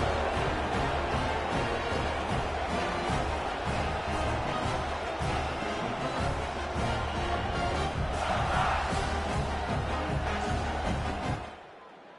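A stadium crowd roars in a college football video game, Clemson against South Carolina: a dense, sustained wall of cheering and shouting, loud throughout, swelling slightly before cutting off abruptly at the end.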